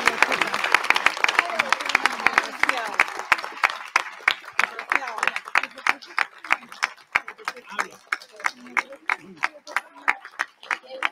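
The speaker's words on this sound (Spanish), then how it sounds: "Aplauso y música para Earle Herrera." An audience at a Christmas concert in Venezuela applauds Earle Herrera, first a dense roar of clapping, then thinning into sharper, evenly spaced rhythmic claps.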